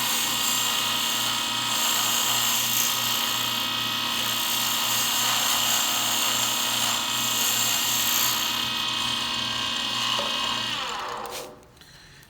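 A wood lathe spins steadily at speed while a seam ripper handle is turned, a constant loud whirring hum with scraping tool contact, winding down near the end.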